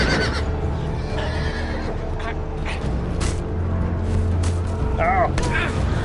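Sharp horse neighs in a Game of Thrones video game, a whinny with wavering pitch near the end, set among hoofbeats, thumps and game effects while a player talks over it.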